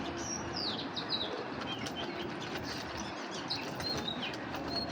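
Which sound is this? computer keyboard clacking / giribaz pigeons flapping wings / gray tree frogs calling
giribaz pigeons flapping wings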